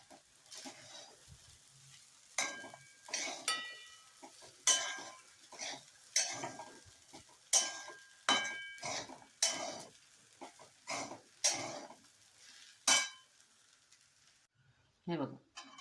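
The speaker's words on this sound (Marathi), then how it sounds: "हे बघा, साबुदाणा चांगला मिक्स करून झालेला आहे." A spoon mixes soaked sabudana (tapioca pearls) into a pan with sautéed chillies, making a series of sharp metallic clinks and scrapes against the pan, recurring every second or so, close and fairly quiet.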